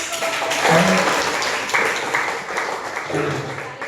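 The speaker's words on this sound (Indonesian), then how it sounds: "Tepuk tangan untuk" A classroom of students gives a round of applause for a classmate's presentation, a moderate steady patter of clapping with faint voices underneath, fairly close.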